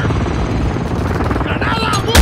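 Gunfire in the game Modern Warfare II comes as rapid, dense bursts over a churning, rotor-like rumble, with a sharp loud crack at the very end.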